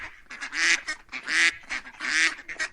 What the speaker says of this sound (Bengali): একটি মা হাঁস তার বাচ্চাদের নিয়ে যেতে লাগলো